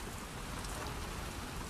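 Steady rain in the video game The Last of Us Part II, a dense, even hiss of drops falling on surfaces that holds at constant loudness throughout, with no voices heard.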